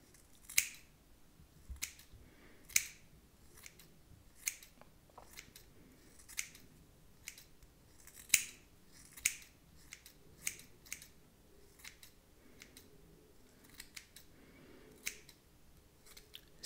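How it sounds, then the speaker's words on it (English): Scissors snip through hair layers during an ASMR haircut, giving about a dozen crisp, close cuts, each one separate or in a quick pair, with brief quiet gaps between them. Nobody speaks. "So I'm going to cut the layers."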